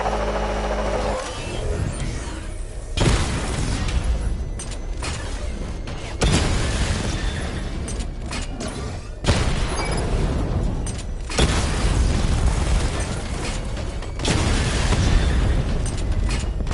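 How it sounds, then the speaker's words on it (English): Missile barrage explosions in Batman: Arkham Knight come as a string of heavy booming blasts every two to three seconds. Each loud burst rumbles and decays before the next hits, over a mechanical engine drone, with no talking. "Charge up missile barrage to level 2 and destroy 4 active targets to complete diagnostic test."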